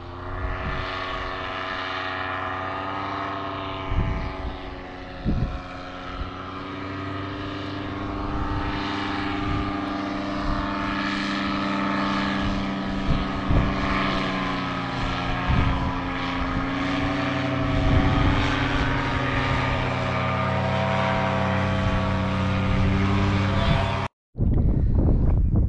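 A helicopter over the Lake District holds a steady engine drone with a low, throbbing rotor hum overhead for nearly the whole stretch, with brief wind buffeting, then cuts off abruptly.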